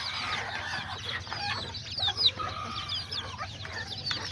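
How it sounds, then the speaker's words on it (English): Chickens cluck close by, a mother hen among her chicks, soft repeated clucks and chirps over a steady low background hum. "And then the mom chicken."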